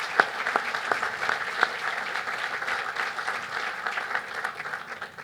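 Audience applause at a ribbon cutting ceremony for a cancer center, a steady, fairly close crowd of hands clapping for about five seconds, with a few sharper individual claps standing out early on.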